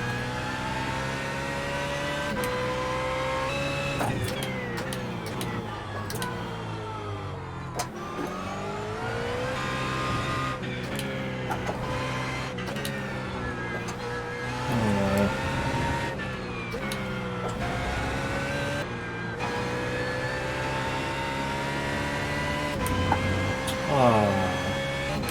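A race car on a hot lap in the iRacing sim on the baseline setup, its engine note climbing and dropping through repeated gear changes and revs, loud and constant throughout, with a voice speaking over it at times.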